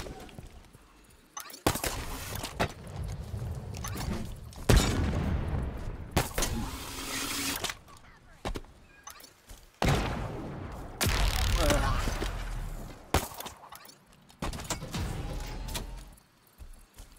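Loud Halo Infinite video game explosions and bursts of gunfire erupt in repeated waves with brief quieter gaps, booming close and heavy throughout.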